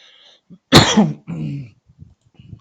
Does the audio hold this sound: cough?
yes